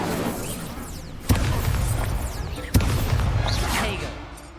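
The Incendio fire spell is cast in Hogwarts Legacy, two sharp booming bursts of flame over a dense whooshing, crackling rush of combat noise, with no voices.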